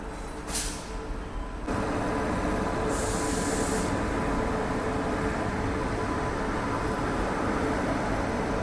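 An Inter City SF Express train pulls into a station platform, a loud steady roar of wheels and rail rumble filling the clip, with short bursts of hissing air brake noise near the start and around the third second.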